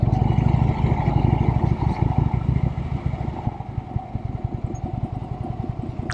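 Harley-Davidson Electra Glide police motorcycle running on the road, a steady loud engine rumble with rapid low pulsing throughout, easing slightly in the second half, with no talk.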